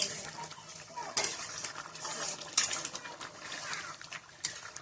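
A curry of gular (cluster fig) is stirred in a pan, with repeated scraping and clinking of the spoon against metal over a low sizzle, fairly close.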